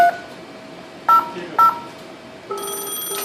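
Telephone dialing tones from a VoIP system calling an analog phone: three separate short keypad beeps spaced apart, then a sustained ringback-style tone, clear and close with no speech.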